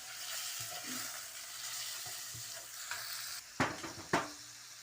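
Chicken frying in a pan for a chicken vegetable pasta, with a steady soft sizzle, quiet stirring and scraping, and a couple of sharper utensil knocks near the end.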